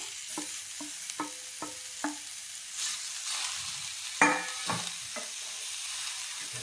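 Chopped tomatoes are stirred into a sprouted moong curry in a pan, with a string of spoon clinks and scrapes over a light sizzle. A louder stir lands near the middle.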